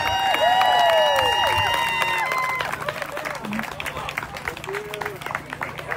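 Crowd at an Eastlake Little League Baseball rally breaks into applause and cheers, with a loud whistle and shouts up front that fade into steady clapping and background crowd noise.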